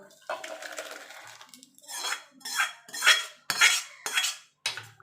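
A metal kadai and utensils clatter and scrape while being handled and cleaned after cooking moong dal with bottle gourd, a series of close, sharp knocks and rattles with brief pauses between them.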